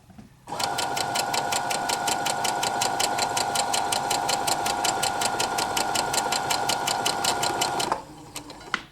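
A Brother SE400 embroidery machine running after a feed dog repair, a steady fast rhythmic mechanical stitching whir that starts abruptly, holds evenly for several seconds, then stops, close and fairly loud with no talk.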